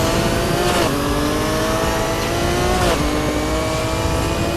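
Racing car in Need for Speed Heat roaring under nitrous boost through the streets of Palm City, a loud continuous engine howl with pitch rising and dropping at two gear shifts, no talking.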